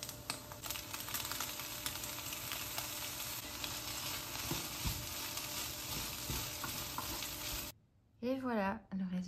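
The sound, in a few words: vegan scrambled eggs frying in pan with soy cream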